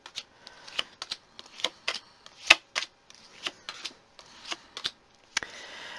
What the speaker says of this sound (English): So let's put some cards down for the first segment for you